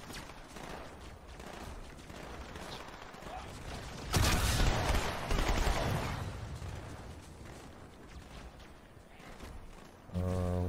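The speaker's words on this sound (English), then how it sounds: "I forgot how the SMG sounded in this game." Rapid SMG fire in the video game Halo 2 Anniversary crackles among dense game effects, with a loud, sustained burst of shooting swelling in the middle and more clatter near the end.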